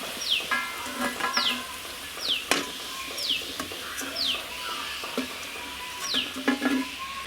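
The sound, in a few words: vada frying in oil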